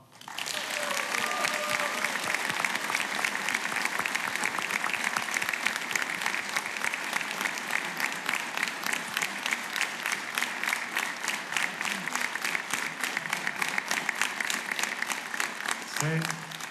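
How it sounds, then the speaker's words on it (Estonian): Sustained audience applause at a Rahvalõõts accordion event, dense and steady clapping for nearly seventeen seconds before cutting off abruptly at the end. "Ma palun aplaus Põlva vallale."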